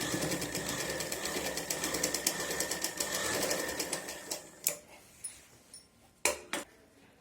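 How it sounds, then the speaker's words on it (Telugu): A sewing machine stitches a neckline patti, its steady rapid needle chatter running loud and close for several seconds before stopping, leaving scattered clicks and taps of fabric handling. "ఇలా పెట్టుకొని స్టిచ్చింగ్ చేసుకోవాలి"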